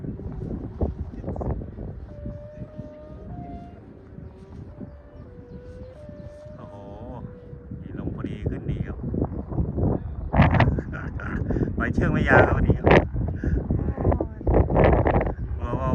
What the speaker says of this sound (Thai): ลมแรงมากลมกระชากครับ